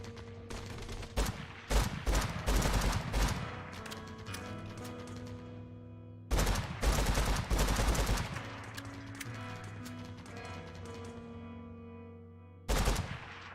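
Shotgun and gun blasts in a video game with neon platforms, loud bursts of rapid gunfire in three separate volleys, sustained musical tones ringing between them.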